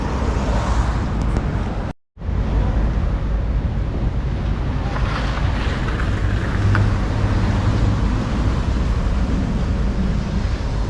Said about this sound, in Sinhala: ඒ තරමට හුළඟ තිබ්බා